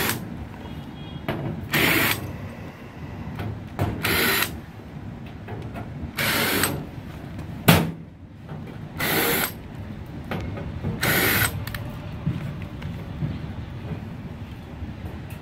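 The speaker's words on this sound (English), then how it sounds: "we're going to remove the external maintenance cover" Tool working on the right-side external maintenance cover of an Endurance 50F pellet grill, giving repeated short bursts of whirring or ratcheting at regular intervals, each lasting under a second, with a sharper clunk partway through and quiet pauses between.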